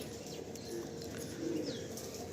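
A breeder pair of pigeons giving soft, low coos close by, with a few faint chirps over quiet background noise.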